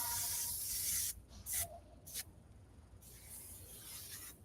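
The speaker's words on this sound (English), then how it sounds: "one last spray for those new curls on this side" Hairspray from an aerosol can hisses onto freshly curled hair in a long, steady close spray, then two short bursts and another sustained spray, with no talking.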